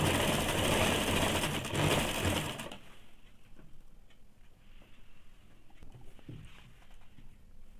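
A sewing machine runs loud and steady for a few seconds while stitching a thin strip onto a saree-matching blouse, then drops to quieter mechanical ticking and handling noises.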